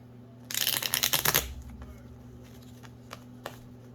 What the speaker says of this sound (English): Let's give that another shuffle here.